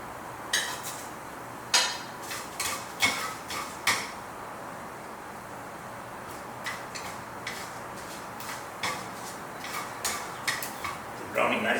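Chana dal and spices for sambar powder roast in a pan with a scatter of light, crisp ticks and small clatters, some sharper than others, spread irregularly over a low background hiss.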